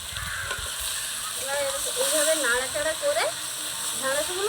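Marinated okra sizzles steadily in hot mustard oil in a wok while being stirred, a continuous close frying hiss running beneath a person's talking.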